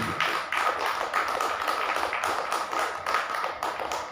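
Congregation at a Tamil Christian praise-and-worship service clapping hands together in a steady rhythm, a dense continuous wash of claps with regular pulses, close and fairly loud, with no talking.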